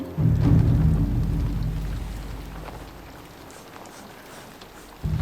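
Steady rain in the samurai video game Ghost of Yotei, a dense hiss that is loudest at the start and eases slightly, with low music or rumble beneath and no talking.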